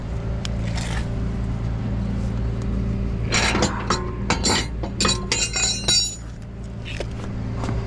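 A tow truck's wheel-lift extends with a mechanical motor whine, then metal hooks clink and rattle as they are unhooked, over a steady idling engine hum; no speech.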